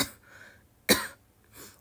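A single sharp cough bursts out close by, brief and loud, with a softer throat-clearing sound trailing it; the rest is quiet.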